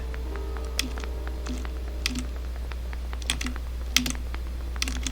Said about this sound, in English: sorry you can hear my keyboard clacking